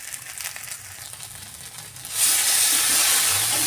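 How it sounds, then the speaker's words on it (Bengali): Spice paste of onion, garlic, ginger, chili, cumin, coriander and turmeric frying in oil for a mustard fish curry, starting as a soft crackle and swelling after two seconds into a loud, steady sizzle and hiss. "আর এইদিকে মশলা কষানো হচ্ছে।"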